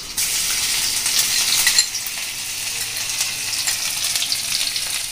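Crushed garlic dropped into hot oil with mustard seeds and cumin for baingan bharta, a loud, steady close sizzle with a sharper burst at the start, then continuous frying crackle, no voices.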